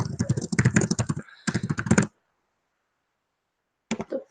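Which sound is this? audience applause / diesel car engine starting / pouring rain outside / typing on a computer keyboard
typing on a computer keyboard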